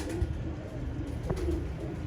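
Old slate-grey pet pigeons coo at close range, a couple of soft throaty low calls over a quiet background, with no talk.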